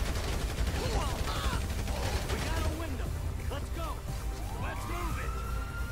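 Gunfire in the video game GTA 5, a busy mix of shots, bursts and game effects running loud and continuous through the whole stretch, with no clear voice on top.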